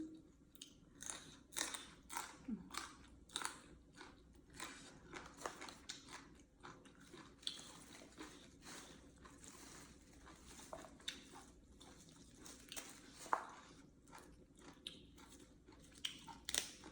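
Someone eats up close, biting and chewing with a steady run of crunchy, wet mouth sounds at a quiet level, and no one speaks.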